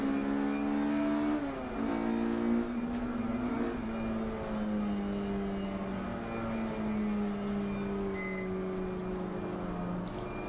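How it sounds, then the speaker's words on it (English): Race cars circling Brands Hatch circuit in qualifying, a steady engine drone with sliding pitch as cars pass and shift, one loud car dominating over others further off, continuous with no talk. "the cars went back out to find some space."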